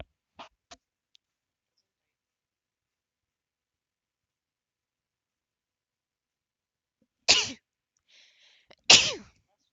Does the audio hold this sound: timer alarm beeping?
no